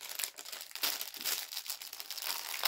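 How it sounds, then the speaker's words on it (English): Pack of polythene plastic bags being opened, giving continuous close crinkling and rustling of thin plastic with irregular bursts, no voices. "So let's just open these. These are polythene bags."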